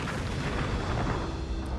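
A sustained, rumbling explosion effect from Power Rangers: Forever Red, loud and dense throughout with a deep boom that rolls on without clear breaks and no talk over it.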